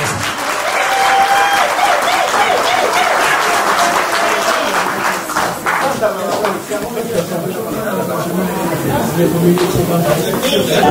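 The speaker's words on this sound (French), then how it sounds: "Applaudissez pour vous-même, s'il vous plaît." Loud, sustained applause from wedding guests at a customary wedding in Villeneuve-Saint-Georges, with a crowd clapping continuously close by while voices and a speaker carry on over it.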